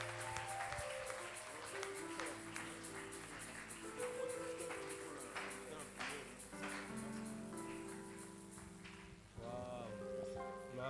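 A church congregation applauds and cheers loudly at an evening prayer marathon, a dense sustained roar of clapping mixed with music and voices throughout.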